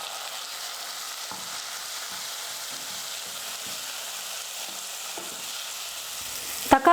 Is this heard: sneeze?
no